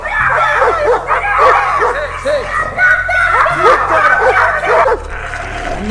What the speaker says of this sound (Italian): Questi cani addestrati valgono un sacco di soldi.